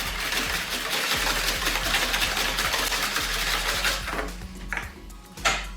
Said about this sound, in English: We'll give that a bit of a whisk.